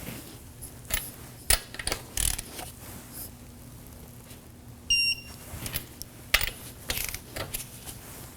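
Torque wrench tightening wheel lug nuts on a 2014-2020 Acura MDX in a star pattern, heard as clicking ratchet bursts at irregular intervals with a few short metallic pings, close but moderate in level.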